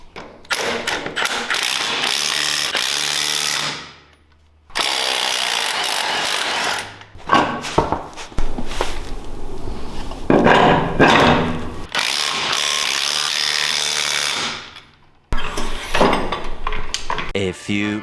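Socket wrench working spline lug nuts on off-road vehicle wheels, loud sustained mechanical ratcheting and whirring bursts, close by, with brief gaps between runs.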